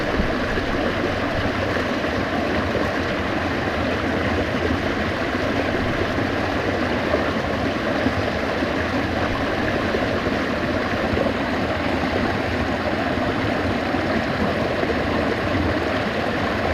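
A mountain stream of snow melt water in the North Cascades of Washington rushes steadily and loudly, a dense continuous roar close by with no voices.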